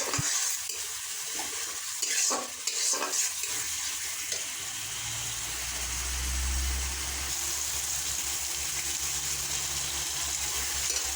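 A pan of potatoes and eggs with cumin, chili and coriander powder is stirred. A few utensil scrapes and clinks come first, followed by a steady, close sizzle and bubbling, with no talking.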